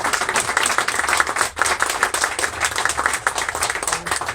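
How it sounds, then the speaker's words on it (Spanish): Audience applause at a talk or presentation, steady dense clapping from a room of people that holds for a few seconds without letting up. "Es un aplauso, ¿no?"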